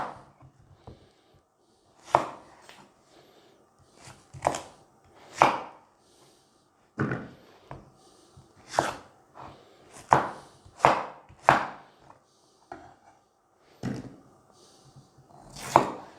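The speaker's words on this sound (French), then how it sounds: "Les légumes ils sont coupés grossièrement" Vegetables, turnip among them, are coarsely chopped with a knife on a board for a poule au pot, irregular sharp thuds landing every second or so, close and fairly quiet, with no voices.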